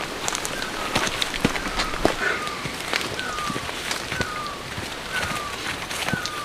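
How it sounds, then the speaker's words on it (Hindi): Rain falls steadily in a forest during heavy weather at a bushcraft shelter camp, a dense patter of drops with sharper individual hits on leaves and surfaces scattered throughout at close range. "ये देखो बारिश हो रही है"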